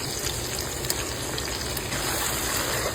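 Canned cream of shrimp soup poured into a hot flour roux in a pan, giving a steady soft sizzle and bubbling hiss, fairly quiet and continuous.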